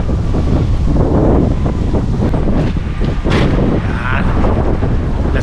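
Strong wind buffets the microphone continuously outdoors in Edmonton, Alberta, Canada, a loud rough roar with gusty surges throughout.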